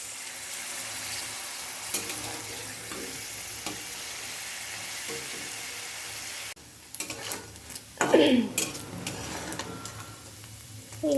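Paneer pieces frying slowly in hot ghee, a soft continuous sizzle with occasional utensil clicks and a brief louder shuffle near the end.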